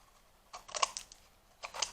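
Scissors cut through fabric scraps for a Santa-trouser-shaped container, with two short close bursts of snipping separated by a brief pause.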